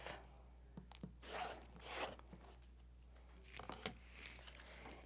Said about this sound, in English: I'm going to cut those selvage edges off